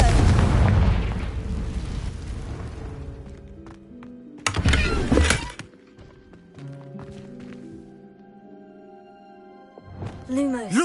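Confringo spell explosion in a Harry Potter video game, a heavy booming blast that fades into a long rumbling decay, then a second sharp burst, with game music and voices in the mix.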